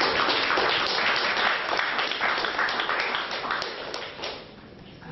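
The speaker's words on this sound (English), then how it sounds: "please clap your hands." Audience at a fiction reading clapping their hands, a dense patter of applause that fades gradually over five seconds.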